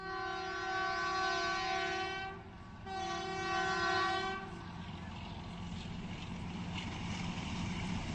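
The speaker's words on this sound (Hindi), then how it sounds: "HBU20 लोकोमोटिव के साथ आ रही है 11 अब हज़ारा एक्सप्रेस" The Hazara Express arrives at Nur Junction in Pakistan behind an HBU20 locomotive, sounding a loud, sustained two-part horn blast before a steady rumble of rolling wheels and passing cars fills the rest.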